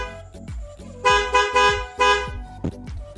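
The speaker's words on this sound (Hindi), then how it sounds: "बजा के दिखाते हैं हॉर्न" Motorcycle horn fitted at home on a bike, sounded in several loud, close honks in quick succession, each a sharp blaring tone with short gaps, over low background noise.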